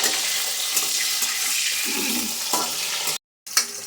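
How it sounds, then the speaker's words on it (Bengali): Mixed vegetables fry lightly in a pan for Bengali shukto, a fairly loud continuous hiss with a few stirring knocks, cut off by a short gap near the end. "এগুলো একটু হালকা হালকা ভেজে নিতে হবে"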